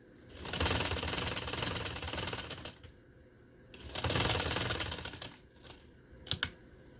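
A sewing machine stitching lace onto a garment neckline runs in two sustained bursts of steady mechanical whirring, with a pause between them and a short final burst, close and fairly loud with no talking.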